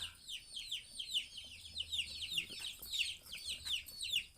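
Many laying hens cluck and chatter continuously in a busy flock at night, soft, steady overlapping calls close by.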